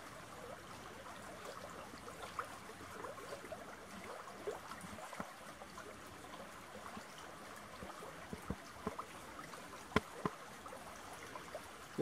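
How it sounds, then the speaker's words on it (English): A stream runs steadily near a bridge in the still night air of a long barrow site, its soft, continuous water rush faint and even with a few small splashes and no talk. "All the sound is the water running."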